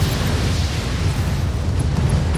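Weapons on a Stalker mech in Battletech fire together in one loud, sustained roaring blast with heavy low rumble and a dense wash of noise, lasting a couple of seconds.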